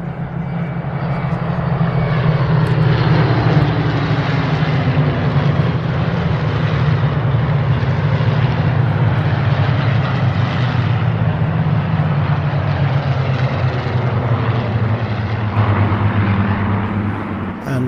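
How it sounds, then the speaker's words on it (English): Seventeen Spitfires with Merlin engines roar overhead together at a Battle of Britain show at Duxford, a loud, sustained droning growl holding steady for the whole stretch with no talking. "that tremendous roar of Merlin engines concludes our show about the Battle of Britain, with 17 Spitfires all in the air at the same time"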